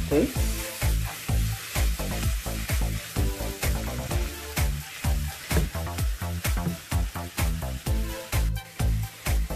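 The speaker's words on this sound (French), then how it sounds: "Je vais laisser tout ça mijoter ensemble un petit peu." Chopped onion cooking in a pan for a Turkish meat-filled pie, with a steady sizzle under rapid, regular stirring strokes that scrape and clack close up throughout.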